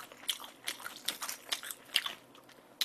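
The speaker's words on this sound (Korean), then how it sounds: "이 도우랑 찍어 먹으면 될 것 같아요." Pizza Hut black pizza dough dipped in salsa is bitten and chewed close up, giving a run of small crunchy, crackly bites and wet chewing in an irregular rhythm, with no talking.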